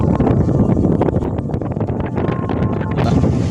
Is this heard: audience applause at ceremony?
no